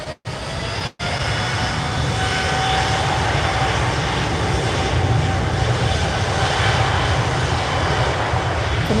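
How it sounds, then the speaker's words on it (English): An Airbus A330 airliner takes off at Lisbon Airport on a windy evening, its jet engines a loud, continuous, broadband roar that fills the scene after a couple of brief dropouts at the start. "Can you hear that engine?"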